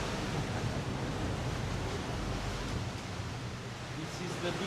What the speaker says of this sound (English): With the sound of the waves hitting the rocks.